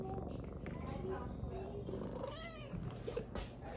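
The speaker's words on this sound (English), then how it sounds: "Can you hear the purr?" A cat purrs at close range in a soft ongoing rumble while a person talks over it and the cat gives brief vocal chirps.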